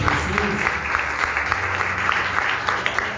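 A room full of people at a church service applauds, steady dense clapping that continues for a few seconds, with some voices faintly mixed in.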